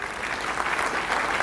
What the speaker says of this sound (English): the clapping will have to be better than the best